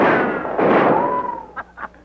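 Gunshots ring out during a shootout in an old comedy film, one loud reverberant blast followed by a second and then two short sharp cracks that fade quickly.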